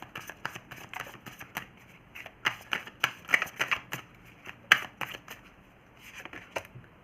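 Tarot cards are shuffled and drawn in quick, papery bursts of flicks and snaps, irregular and close, without talking.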